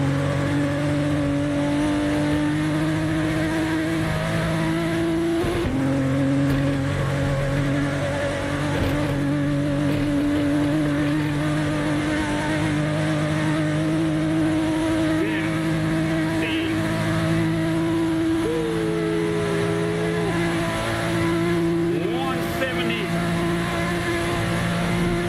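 Racing car engine in the video game Assetto Corsa, a steady loud drone with shifting pitch that holds for the whole stretch, with faint talk in the background.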